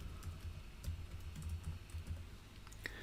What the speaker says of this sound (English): I'm going to type in family search